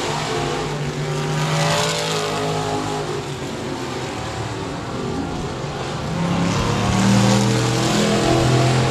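Race cars roar together on the final lap at 67 Speedway of Texarkana, a steady, loud engine drone that swells toward the end with no talk over it.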